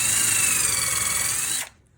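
A power drill fitted with a countersink bit starts a hole in wood while a birdhouse is built: a steady, loud whine with a grinding edge that runs for over a second and a half, then cuts off abruptly.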